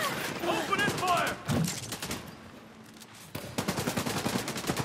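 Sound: minigun firing in video game The Division 2

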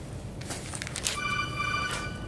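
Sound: mobile phone ringing in a lecture hall

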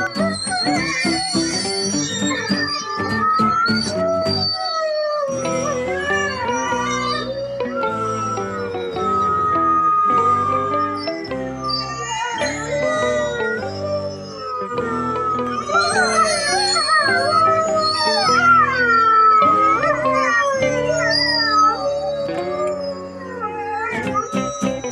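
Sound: wolves howling

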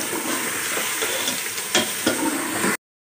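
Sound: stirring chicken into fried masala in a pan

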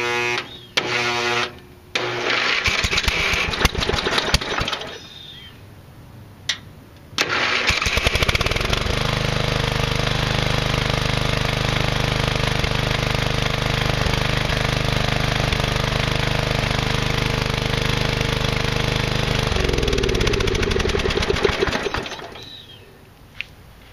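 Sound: hotwired Briggs & Stratton flathead single-cylinder engine running

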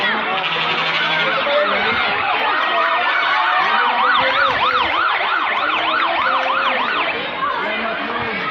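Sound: fire truck siren

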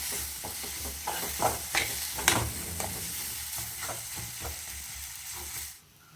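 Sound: stirring tomatoes frying in a pan

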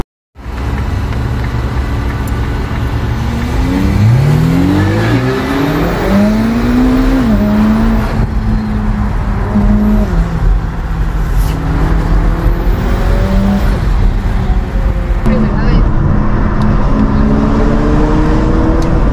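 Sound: Porsche 911 Turbo S engine accelerating, chasing a Ferrari SF90

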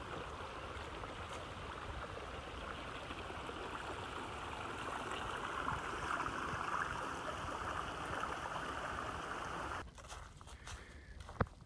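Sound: creek water flowing in a forest

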